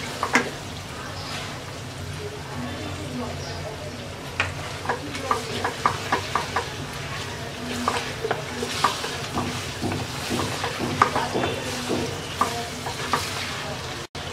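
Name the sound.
ginger garlic paste frying and being stirred for olive pickle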